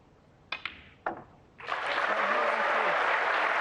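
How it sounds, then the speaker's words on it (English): Spectators at a Saudi Arabia snooker Masters final in Riyadh break into steady applause after a couple of sharp knocks, with a commentator speaking over the clapping. "Warmly applauded by the crowd here in Riyadh"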